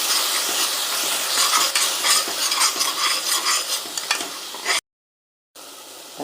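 Tomato, onion and ginger garlic paste sautéing for a green peas biryani, a loud steady sizzle broken by frequent stirring scrapes and clinks, cutting out briefly near the end before resuming.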